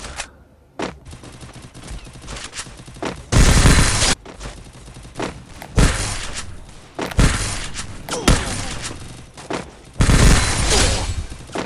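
MP40 submachine gun fired in the Free Fire game, loud rapid bursts of gunfire with heavy booming volleys and sharp individual shots, repeated in several close, punchy strings.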